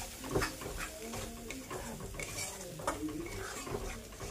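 Masala is fried with a splash of water, and a spoon scrapes and clinks steadily against the pan under a soft sizzle, close and fairly quiet, with no voices.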